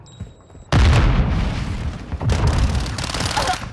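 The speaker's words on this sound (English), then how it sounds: "Semtex out." A Semtex grenade detonating in Modern Warfare 2 multiplayer: a sudden loud boom erupts after a quiet lead-in, followed by sustained rumbling and crackling gunfire-like debris that stays dense to the end.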